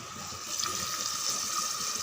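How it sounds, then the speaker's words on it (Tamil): Water pours into a pot of chicken biryani, a steady hissing rush that runs without a break and grows slightly fuller partway through, fairly close, with no talking. "இந்த டைமில் நம்ம தண்ணி சேர்த்துடலாம்."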